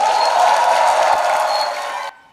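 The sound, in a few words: applause and cheering welcoming a missionary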